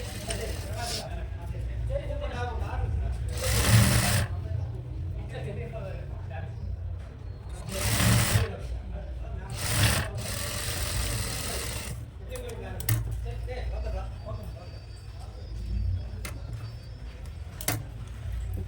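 A sewing machine stitching a frock nighty with a quarter-inch seam gap runs in short bursts at close range, its steady motor whir punctuated by a few louder runs, with someone talking throughout.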